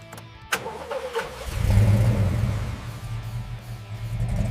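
A 2005 Ford Mustang GT, restored from rust, cranks and fires up with a sharp start, then settles into a deep rumbling rev that swells and holds loud and close.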